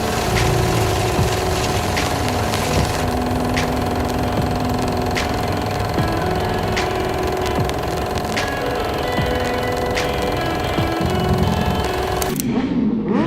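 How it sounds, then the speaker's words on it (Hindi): Motorbike engines drone loudly and continuously nearby as bikes pass, a steady rumbling roar with a few sharper rattles, then the noise cuts off abruptly near the end. "बाइक्स का शोर यहाँ पे बहुत ज़्यादा है"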